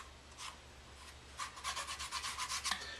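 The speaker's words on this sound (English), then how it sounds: "You just take your finger and rub it in." A fingertip rubs wood filler into dollhouse wood, a quiet, dry scratchy rasping that starts with a couple of faint strokes, then quickens into a rapid series of short rubbing strokes close to the microphone.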